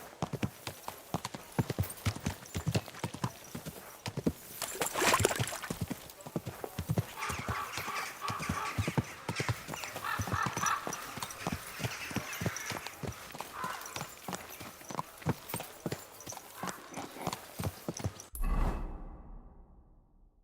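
Horse hooves clip-clop at a steady, quick rhythm in the video game Kingdom Come: Deliverance II, loud and close, with a brief whinny, then the sound cuts off abruptly near the end.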